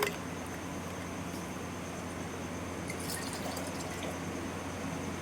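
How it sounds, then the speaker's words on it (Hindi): Water from a bottle is tipped out onto the ground, making a steady, fairly loud splashing pour that runs unbroken from start to finish, with a few brighter drips near the middle. "बॉटल में पानी भरना है, उसका पानी हम पूरा गिरा देते हैं नीचे।"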